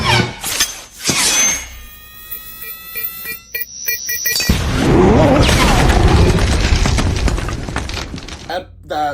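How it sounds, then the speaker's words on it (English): A goblin grenade explodes in a Spider-Man 3 film scene: high electronic beeps and clanks build up, then a loud, sustained roaring blast follows, with voices heard over the sound effects. "Harry chucks a goblin grenade at him."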